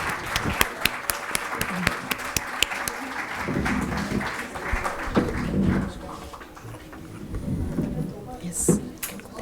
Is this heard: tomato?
no